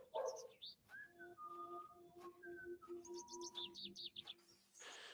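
Melodic whistled notes in the point-and-click horror game The Excavation of Hob's Barrow, sustained tones gliding between pitches over several seconds, fairly faint and mixed with chirpy bird-like ambience.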